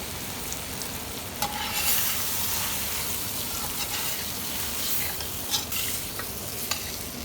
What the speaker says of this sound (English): Once added, you just stir it, you coat properly